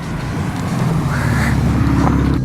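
A Porsche 968 engine running, a car with worn bushings after a power steering leak: a steady, loud, close rumble with a continuous low drone throughout and no talk.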